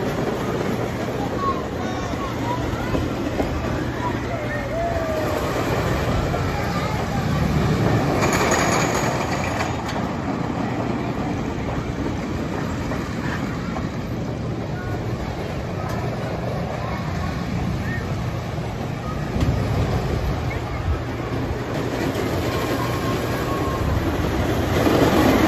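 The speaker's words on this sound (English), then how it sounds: "Oldest coaster in Ohio." An old wooden family roller coaster at the Columbus Zoo rumbles and clatters continuously along its track, loud and rough throughout, with wheel rattle and faint voices mixed in.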